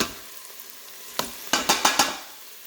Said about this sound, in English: Okay, so my veggies are pretty sauteed.